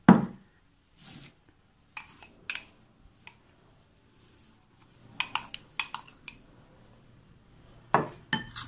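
Isabgol husk being mixed into homemade phakki digestive powder, heard as sparse, close clinks and taps of a spoon against a dish, separated by quiet gaps and with no talk.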